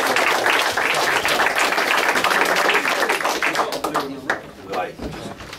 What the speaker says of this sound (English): We got Hubert, another round of applause.